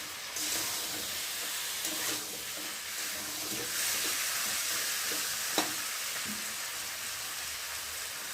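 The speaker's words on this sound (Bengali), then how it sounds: "তেলটাও দিয়ে দিলাম আর আলুটাও তার সাথে দিয়ে একসাথে কষিয়ে নিলাম" Potatoes frying in oil with spices in a pan, a continuous soft sizzle and hiss broken by occasional scrapes and clicks of stirring, fairly quiet and close.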